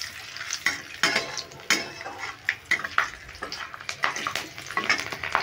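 Green chilies hit hot oil for a tempering, crackling and spitting with frequent sharp pops over a busy sizzle, with a few scrapes from stirring.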